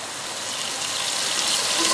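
Yakhni, a mutton stock, is poured into mutton frying in a pot for a degi-style white mutton pulao. A steady, close hiss and gush swells gently over two seconds, with no talking.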